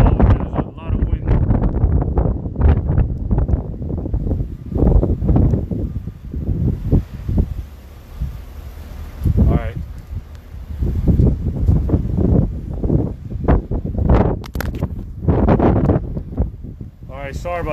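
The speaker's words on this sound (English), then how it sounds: "There's a lot of wind." Strong wind gusts buffet a microphone outdoors during a Miami Lakes COVID-19 update, producing rumbling bursts that come and go under someone speaking continuously.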